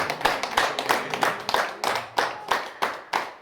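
A small crowd claps in a loose, steady rhythm, each clap sharp and distinct, with no voices over it.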